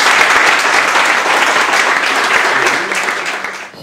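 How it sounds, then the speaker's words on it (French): A theatre audience applauds loudly and steadily for a performer named Pauline Poinmu, a dense wash of many hands that stays full before fading slightly near the end. "Applaudissez-la bien fort."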